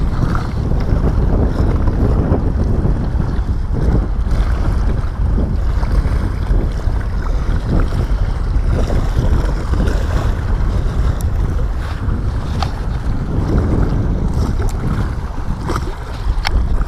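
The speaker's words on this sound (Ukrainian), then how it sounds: "Вітер буває, що з ніг зносить" Loud, continuous storm wind buffeting the microphone in gusts while fishing, with a roaring, rumbling wash throughout and no voices.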